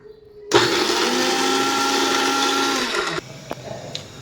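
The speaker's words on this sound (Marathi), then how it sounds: "चला तर आपण हे आता जिन्नस सगळं मिक्सर ग्राइंड करून येऊया." A mixer grinder blends ginger, garlic and sliced onion in one loud, steady whirring run of a few seconds that cuts off sharply, followed by a few light clicks.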